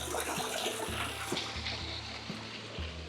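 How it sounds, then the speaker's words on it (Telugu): Fresh water trickles and splashes steadily inside a seaside tunnel in St. Vincent, a continuous close wash of running water with a low rumbling undertone throughout. "సో ఇది ఫ్రెష్ వాటర్ సోర్స్ కూడా ఉంది ఇక్కడ"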